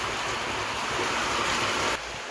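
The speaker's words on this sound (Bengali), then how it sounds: "এক নাগাড়ে মুষলধারায় বৃষ্টি হচ্ছে" Torrential rain falls nonstop on a home courtyard, a thick, loud wash of noise that suddenly drops lower near the end.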